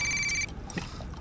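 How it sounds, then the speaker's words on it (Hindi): A telephone rings briefly, close and clear for under half a second before cutting off, followed by a short trickle of water-like noise in a bathroom. "अरे कौन है जो बाथरूम में भी फोन कर रहा है?"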